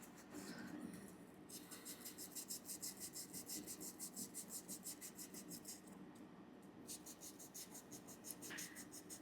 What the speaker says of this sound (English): so I am going to sand